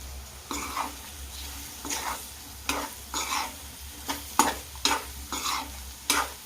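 Soya chunks are stirred into biryani masala in a pan, a spoon scraping in a steady series of about nine rhythmic strokes over a soft constant sizzle, close and alone with no talk.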